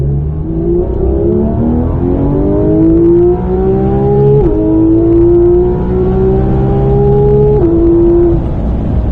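A sports car accelerates hard at full throttle on a track, the engine note climbing steadily through two gear changes, loud and close, with the whole pass sounding alone without voices.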